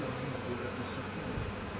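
A honeybee swarm settled on the drawbar of a farm trailer gives a continuous, faint dense buzz with no break.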